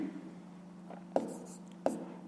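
A pen writing on paper in a fifth-grade maths exercise book, faint scratching strokes with two sharper taps, quiet and close, with a low background hum.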